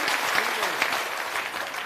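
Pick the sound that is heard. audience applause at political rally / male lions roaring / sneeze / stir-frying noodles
audience applause at political rally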